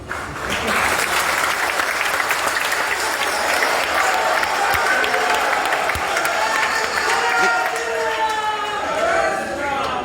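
An audience at an annual function bursts into loud, sustained applause with scattered cheers, a dense crowd clapping close and full for about ten seconds, with voices audible through the noise.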